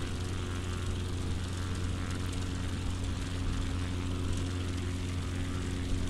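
A steady propeller aircraft engine drone in Microsoft Flight Simulator 2020 during a bush flight in moderate weather, a constant even hum with no breaks.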